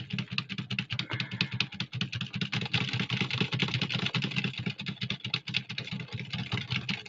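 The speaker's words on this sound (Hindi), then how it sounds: "जब मैं यहाँ पे टाइप करता हूँ" Rapid, continuous typing on a computer keyboard, dense close clicks of keys at a fast even pace over a steady low hum, with no one speaking.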